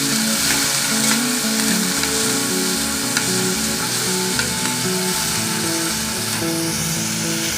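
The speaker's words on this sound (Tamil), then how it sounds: "இப்போ நல்லா கிண்டி விடுவோம். வெங்காயமும் பச்சை மிளகாயும் நல்லா வேகட்டும்." Onions and green chillies fry in a pan while being stirred, a steady loud sizzle with scraping strokes of the spatula throughout, no voices.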